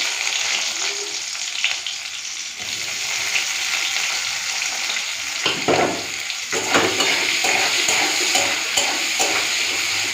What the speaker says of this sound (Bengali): পেঁয়াজটা ওইদিকে ভাজা বসিয়ে দিয়েছি